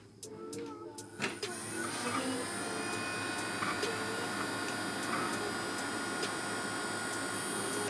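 A switched-on CPU cooling fan fitted with added LEDs runs with a steady whirring hum, preceded by a few clicks of handling.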